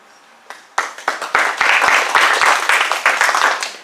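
Audience at a Toastmasters club meeting bursts into applause, a few scattered claps quickly building into dense, sustained clapping from a roomful of people, close and fairly loud.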